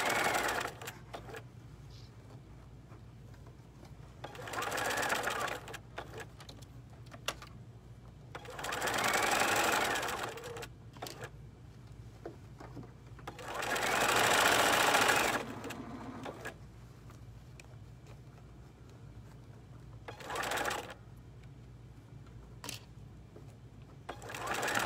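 A sewing machine stitches fabric right beside a seam in several short bursts of rapid mechanical whirring separated by quieter gaps, fairly close and alone without talk.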